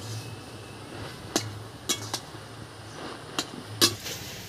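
Taro greens stirred in a cooking pot, with a handful of sharp metallic clinks and scrapes of a utensil against the pot spread across a quiet background, each knock brief and fairly close.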